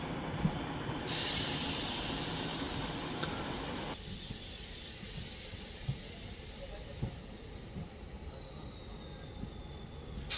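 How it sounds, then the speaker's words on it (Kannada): A Bidar to Kalaburagi DEMU express crossing at Kamalapur railway station, heard as a steady rumble of rolling wheels and carriages with a long high squeal and hiss over it, close and continuous. "ಕಮಲಾಪುರ ರೈಲ್ವೆ ಸ್ಟೇಷನಲ್ಲಿ ಕ್ರಾಸಿಂಗ್ ಆಗ್ತಿದೆ ಬೀದರಿಂದ ಕಲಬುರ್ಗಿಗೆ ಹೋಗೋ ಡೆಮು ಎಕ್ಸ್ಪ್ರೆಸ್."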